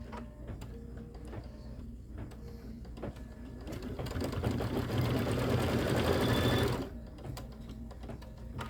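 A sewing machine stitches through a quilt star block, a fast steady mechanical whirring that swells louder for a few seconds near the middle, then drops back to lighter ticking and clicking, with no talking.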